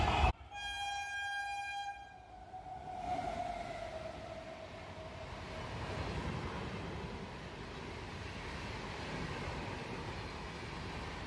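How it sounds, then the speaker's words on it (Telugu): A fast train rushes through Gokarna Road station, opening with a loud, sustained horn blast followed by a continuous roaring, rattling rumble of the wagons passing close by, steady for the rest of the clip. "ఇప్పుడే ఒక ట్రైన్ వెళ్తుంది, చాలా ఫాస్ట్గా వెళ్తుంది."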